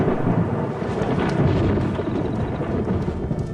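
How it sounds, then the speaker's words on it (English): Loud, near thunder rumbles continuously over a dry savanna grassland while rain falls steadily, a dense, unbroken roar lasting a few seconds with no voices. "A storm approaches."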